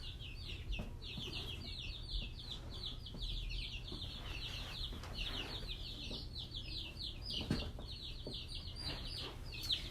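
Baby chicks and young chickens chirping and peeping almost nonstop, high and close, with a soft low rumble beneath and occasional faint clucks and rustles.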